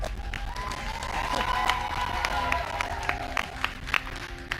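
A studio audience applauds the Roblox Creator Showdown champions, with loud, sustained clapping and cheering that swells and carries sharp individual claps near the end.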